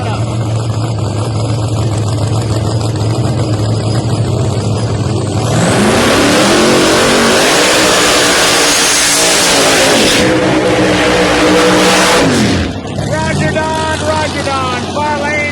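A ProMod drag race car launches and accelerates down the track at a motorsports park, a loud raw engine roar building and sustaining before dropping off, with an announcer's voice under the noise.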